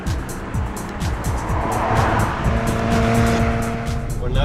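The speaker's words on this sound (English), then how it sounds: "The car is safe and steady and stable underneath me." Audi Quattro sports car on a race circuit, its engine roaring loudly and close with shifting revs and gear changes, tires squealing through the run.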